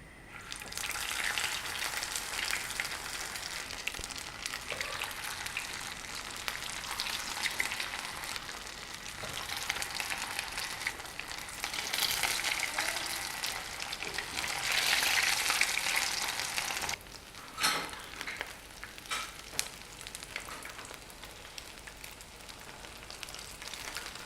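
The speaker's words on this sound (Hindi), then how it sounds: "अब हम इसको शैलो फ्राई करेंगे।" Kebab patties shallow frying in hot oil over a low flame, a continuous bubbling sizzle that stays close and even for a long stretch, briefly rising and dipping, with no talking.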